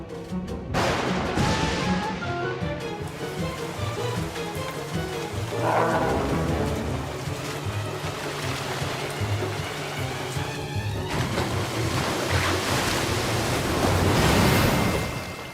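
Storm in an animated show: steady, loud rain and rushing wind roar without a break, swelling near the end, with no voices over it.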